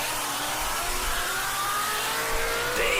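A 1,000 horsepower ZR1 street race car accelerating away, engine note rising steadily as it pulls off, fairly loud and continuous, with a sharper rise near the end.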